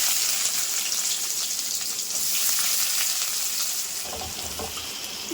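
Onions fry in hot oil in a kadai, giving a steady bright sizzle with light stirring scrapes toward the end, close and continuous without speech.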